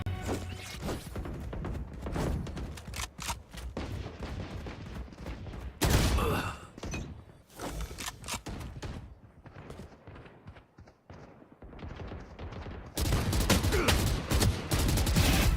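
Rapid gunfire in a shooting video game, with dense bursts of automatic fire and sharp cracks that come and go over the span, loud and close, with brief quieter gaps and faint talk underneath.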